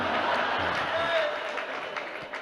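An audience at a Jain religious discourse claps together in a brief, dense burst of applause, filling the hall moderately loudly with a blur of overlapping hand claps and no talk over it.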